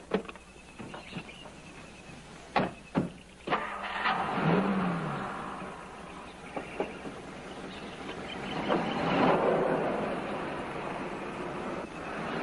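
A car door thuds shut a few times, then a mid-sized car engine starts and drives off, rising in a smooth acceleration. An older 1950s patrol-era setting.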